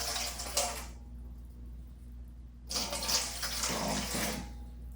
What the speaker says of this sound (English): 375 grams of water.